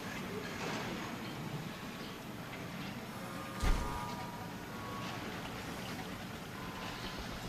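Monorail train running in Jurassic World Evolution, a quiet, steady rumbling glide with one brief bump in the middle, no talking.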